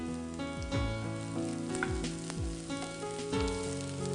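Ginger, garlic, green chilli and onion sauté in hot oil with a steady, close sizzle, broken by a few stirring scrapes. A tonal hum runs underneath throughout.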